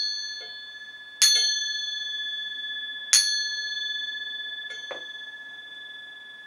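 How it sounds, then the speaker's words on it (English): A gong is struck three times at a slow, even pace in a calm meditation setting, each strike ringing bright and metallic with a long, shimmering sustain that carries into the next, with no voices. "So follow the sound of the gong."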